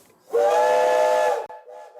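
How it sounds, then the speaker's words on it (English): A steam locomotive whistle at a steel mill railroad museum gives one loud, sustained, tuneful blast of a little over a second. It cuts off sharply, leaving a fainter hissing tone. "Sprays of steam flow constantly from various parts of the locomotive, for it's the steam that powers the train from the engine to the whistle."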